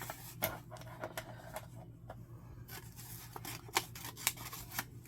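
Tim Holtz scissors snip through craft paper in a run of crisp, close cuts, each a short dry crunch with small pauses between, quiet and unaccompanied.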